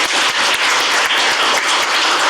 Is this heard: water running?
no